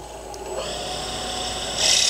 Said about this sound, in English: So I'll start up my lathe